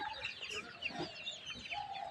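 Native desi chickens cluck and murmur nearby in a brief, busy patch of overlapping soft calls, fairly quiet throughout.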